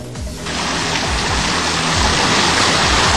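Babbling water flows steadily in a natural outdoor setting, a continuous close rushing wash that holds level throughout with no voices.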